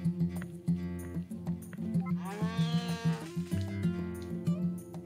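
Farm cow mooing in Harvest Moon: A Wonderful Life: one drawn-out moo in the middle over a looping, tuneful background melody.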